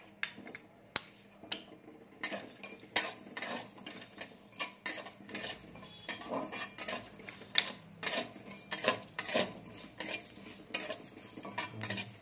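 Whole spices, black peppercorns, cumin, coriander seed, fenugreek and two dried red chillies, are dry-roasted in an empty pan, giving quiet, irregular scraping and rattling stirs with soft clicks of a utensil against the metal, close by and without talk.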